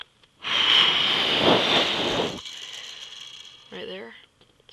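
Plastic Lego City car wash brushes turned by a small hand wheel, giving a close ratcheting, clicking whir for a couple of seconds, then a fainter rattle and a brief squeaky burst.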